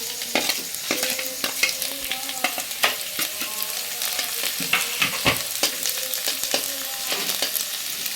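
Garlic sizzling in a pan with already-fried potatoes, a steady close frying hiss broken by repeated scraping and stirring clatters throughout, no voices.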